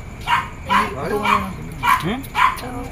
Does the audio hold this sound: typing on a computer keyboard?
no